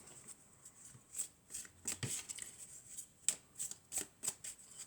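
Oracle cards being shuffled by hand during a card reading, a run of soft papery riffles and flicks in irregular bursts, close and fairly quiet with no talk.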